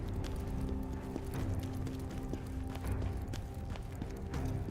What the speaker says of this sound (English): Oh, yeah, you can use your horse.